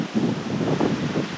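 Wind at a stormy beach campsite, buffeting an open microphone with low, gusty rumbling and rustle that stays fairly even through the short stretch.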